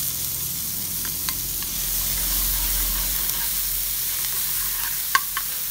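Shallots and garlic sizzle in hot oil, a loud, continuous close hiss with a few faint clinks near the end.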